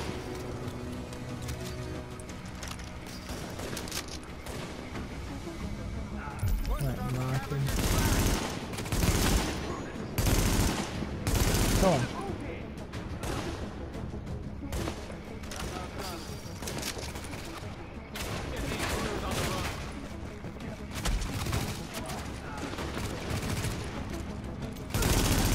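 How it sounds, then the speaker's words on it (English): Suppressive gunfire in the video game The Division: dense rattling bursts of automatic fire and repeated shots, loud and ongoing throughout, layered over game ambience, with voices talking intermittently. "Sounds like one of these trying to lay down suppressive fire."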